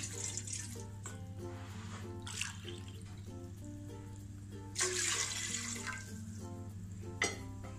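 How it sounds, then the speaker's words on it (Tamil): Water runs and splashes steadily into a metal pan, half a cup for sugar syrup, with a few louder gushes and clinks along the way. "சுகர் சிரப் பண்ணுறதுக்கு நான் 1/2 கப் தண்ணி சேர்த்துடலாம்"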